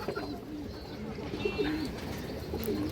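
Several pigeons coo in repeated low, warbling phrases, including a female green-neck kept in a loft, the calls recurring every second or so at moderate loudness over a constant hum of background noise.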